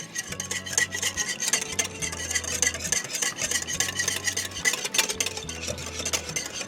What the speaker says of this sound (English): after you get this whisked just enough